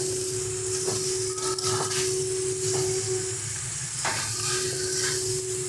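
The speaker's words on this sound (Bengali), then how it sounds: "ভালো করে আলু, এঁচড় আর মশলাগুলো মিশিয়ে নেব।" Boiled potatoes, jackfruit and spices are stirred in a frying pan, with a steady close sizzle and hiss broken by repeated scraping strokes of a spatula and a persistent tonal hum underneath.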